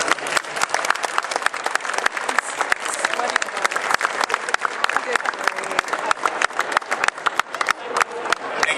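An audience applauds Nels, a cyclist with the Athletes4Heart bike-across-America effort, with dense, sustained clapping from a sizeable crowd that holds steady and fairly loud throughout.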